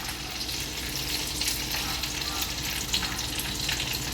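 Coconut milk curry simmers in an uruli pot while being stirred continuously, a soft, even bubbling sizzle with light scraping, fairly quiet and close.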